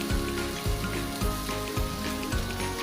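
Potatoes tipped into a sizzling spice tempering in a pan for bread patties give a steady close frying sizzle with low stirring thumps repeating about every half second.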